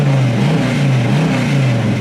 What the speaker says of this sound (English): Really good sounding dual exhaust.